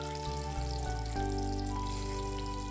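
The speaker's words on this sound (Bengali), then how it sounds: "তেলের উপরে ডিমগুলো দিয়ে হালকা নাড়াচাড়া করে একটু ভাজা হয়ে গেলে এবার তুলে নিচ্ছি।" Eggs frying in hot oil in a pan for a kohlrabi and egg curry, a steady close sizzle and crackle under background music, with no talking.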